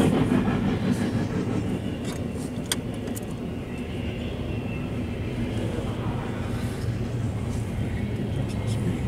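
An empty freight train rolls past in a continuous low rumble and rattle of wagons, steady and fairly close throughout, with a voice speaking briefly over it.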